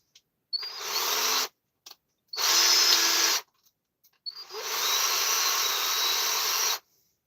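A power drill whirs in three bursts, each spinning up sharply and cutting off, with short silences between; close and fairly loud.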